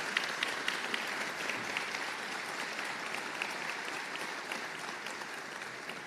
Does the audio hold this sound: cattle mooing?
no